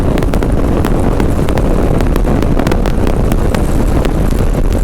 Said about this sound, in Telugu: విండ్ బ్లాస్ట్ అయితే అసలు చాలా బేభత్సగా అయితే ఉంది